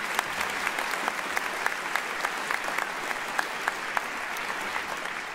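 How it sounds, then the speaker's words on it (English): Audience applause at a community college commencement ceremony: a fairly distant, steady patter of many hands with scattered sharper claps, sustained throughout. "one more round of applause for both Paul Krieger and Lloyd Weiner"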